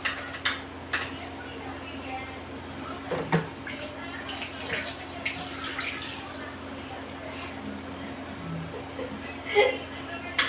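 Water runs from a tap into a sink at a low, steady level, with occasional clinks of dishes and faint speech in the background.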